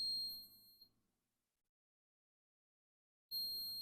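Brewtools brewing system timer gives a steady electronic beep that cuts off after about a second, followed by silence, then the tone starts again at the end.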